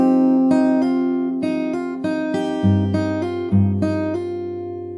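Fingerstyle acoustic guitar playing the full chord passage of a song, a steady pattern of plucked treble notes with bass notes shifting underneath, close and unaccompanied.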